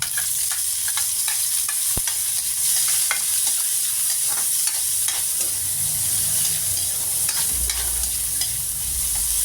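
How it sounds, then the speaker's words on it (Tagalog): Onion and garlic sauté in a pan for a ginataang pako at kalabasa dish, giving a continuous close sizzle with regular stirring scrapes and taps throughout. "Next, lagyan na natin ang sibuyas bawang."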